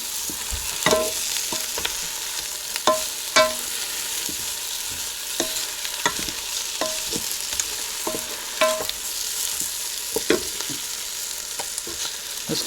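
Spinach and eggs cook in a pan, giving a continuous bright sizzle with scattered clicks and scrapes from stirring, close by and without speech.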